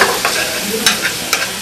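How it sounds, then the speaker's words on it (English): Broccoli rabe sautéing in a pan gives a steady, loud sizzle close by, with a few quick stirring scrapes breaking through the hiss. "Then after I saute them a little bit"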